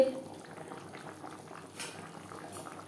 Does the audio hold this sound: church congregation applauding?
no